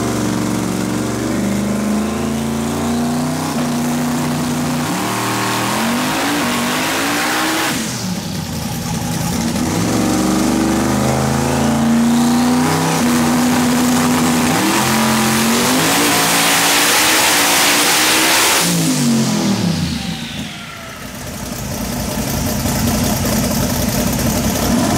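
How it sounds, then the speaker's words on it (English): The 3,200hp Murder Nova race car engine making power pulls on a dyno, a loud, deep revving roar that swells and drops through repeated pulls, with brief lulls between surges and no talking. "and we're gonna start making power pulls."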